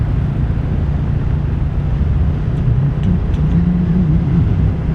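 A 2022 Royal Enfield Classic 350 rolls along a gravel stretch of Spanish countryside road, a loud continuous low engine drone with wind and crunching road noise and a brief rising engine note, no talking.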